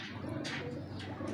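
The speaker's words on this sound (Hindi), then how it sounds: "ये फिरोजपुरी कबूतर है" A Ferozpuri pigeon coos softly at close range, a short low throaty call with no voices around it.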